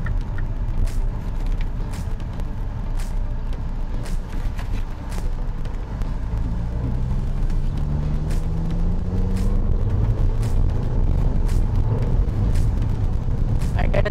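A 2008 second-generation Mini Cooper 1.4 petrol drives along with a steady engine drone, its pitch rising and falling as it moves, and with faint clicks and road noise from inside the cabin.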